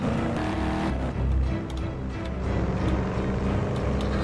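Roblox video game car engine, a continuous low rumbling drone with a brief surge partway through, steady and close throughout, with no talking.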